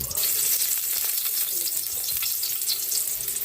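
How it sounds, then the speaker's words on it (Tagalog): Garlic sautés in cooking oil for ginisang tahong, a mussel dish, giving a steady, bright, close sizzle and crackle that runs throughout with no talking. "Gigisa na tayo para sa ating ginisang tahong."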